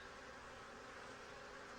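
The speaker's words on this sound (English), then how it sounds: "There's a lot of bees in here." Honey bees in an open hive make a dense, steady buzzing hum that fills the whole brief moment, close and constant with no other sounds.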